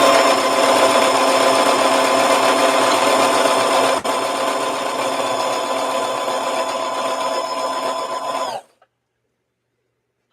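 Sewing machine stitching a doll dress of fabric with lace and trim: a close, steady motor whir runs continuously for about eight and a half seconds, then stops abruptly into silence.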